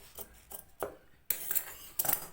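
Scissors cutting kurta fabric make a few short, crisp snips and metallic clicks, close and fairly quiet, spaced irregularly with brief pauses between cuts.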